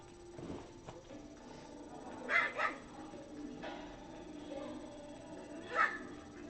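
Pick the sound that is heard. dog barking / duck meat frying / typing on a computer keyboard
dog barking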